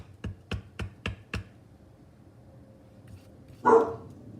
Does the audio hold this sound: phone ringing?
no